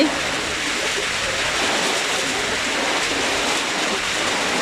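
Steady, dense rain pours down without a break, a constant broadband hiss close by with no voices.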